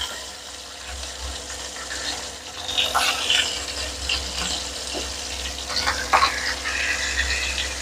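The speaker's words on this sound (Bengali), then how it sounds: "এখন মাছের মাথাগুলোকে ভেজে নেব।" Rohu fish heads frying one by one in medium-hot oil, a steady soft sizzle and crackle with brief louder spits, heard alone and fairly close.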